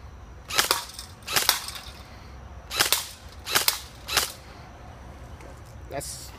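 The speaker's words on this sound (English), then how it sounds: "that's some shots out of the semi." Semi-automatic shots from a Black-ops Tactical M4 Viper: five sharp, close reports in an uneven rhythm, followed by a fainter sixth near the end.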